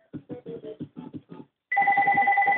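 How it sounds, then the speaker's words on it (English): A mobile phone ringtone cuts in abruptly after a run of short rhythmic sounds, then holds as a steady, loud electronic tone to the end. "And my phone goes off."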